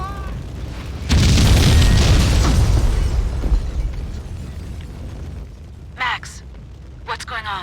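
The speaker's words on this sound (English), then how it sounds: "The building's blowing up." A building blows up in the Max Payne 2 video game: a sudden loud booming blast that rumbles and decays over several seconds, followed by quieter debris and brief sharp sounds near the end.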